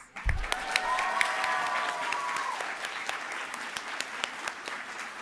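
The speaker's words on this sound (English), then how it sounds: "Give yourselves one more huge round of applause" The graduating class at a Class of 2022 multicultural graduation celebration breaks into loud, sustained applause with scattered cheers. The clapping swells quickly and then holds steady across the whole stretch as a dense crowd roar.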